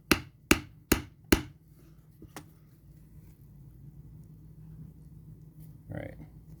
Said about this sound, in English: hammer it some more